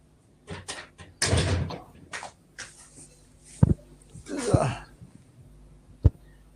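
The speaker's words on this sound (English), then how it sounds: "Let me close the door and see how it will be." Indoor door being pulled shut, heard as a few knocks and sharp thumps scattered among rustling and handling noise, with a voice speaking briefly nearby.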